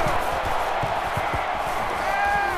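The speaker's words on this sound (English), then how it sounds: "And this crowd is going absolutely crazy." Dense, roaring stadium crowd in NCAA Football 14 during a Mississippi State vs Alabama game, loud continuous cheering with thumping low beats underneath.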